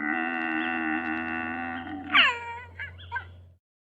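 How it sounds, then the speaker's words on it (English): A deer lets out a long, steady, nasal tonal call that breaks into a falling squeal, then two brief higher yelps. It is close and alone, ending in silence. "It's a deer!"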